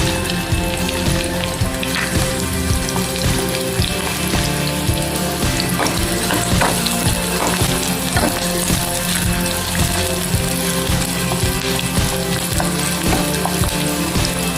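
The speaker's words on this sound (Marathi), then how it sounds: "मोहरी आणि जिरे चांगलं झालेलं आहे. आता त्यामध्ये आपण ॲड करूया कांदा," Chopped onion sizzles steadily in hot oil with mustard seeds and cumin, a loud, continuous frying crackle with occasional stirring, and no voices.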